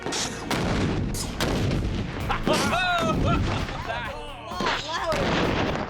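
Ten pounds of ANFO explosive detonating outdoors: loud, dense booming blasts and rumble fill the whole stretch, with voices calling out over the noise partway through.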